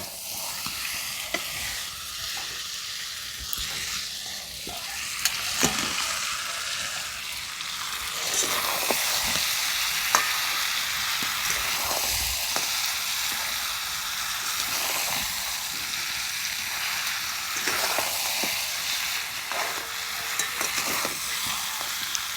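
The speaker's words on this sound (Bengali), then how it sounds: "এবার আলু আর ভেজে রাখা কাঁকড়াগুলো দিয়ে দেব" Sundarbans crab pieces and potatoes sauté in an oily spiced masala, a steady loud sizzle with scraping stirs and occasional sharp clatters of the spoon against the pan throughout.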